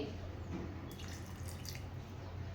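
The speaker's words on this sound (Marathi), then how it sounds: "पाणी घालून घेते" Water poured into semolina (rava) batter for appe, a faint, soft trickle with a brief brighter splash midway over a low, steady background.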